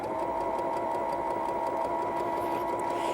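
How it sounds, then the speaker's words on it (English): A sewing machine runs a straight stitch along a dart in fabric, a steady continuous whirring hum with no talking over it. "I'm going to straight stitch the dart."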